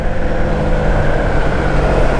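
Steady road traffic rumble heard from a Honda Wave motorcycle riding toward SM Mall of Asia in Metro Manila, a constant broadband wash of engines and wind noise with no distinct events.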